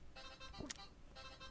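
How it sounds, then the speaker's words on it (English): A mobile phone ringtone chimes faintly in brief bright tonal bursts over a steady background hiss, with no talking. "You like my ringtone?"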